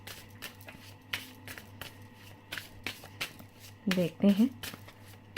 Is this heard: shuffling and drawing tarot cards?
yes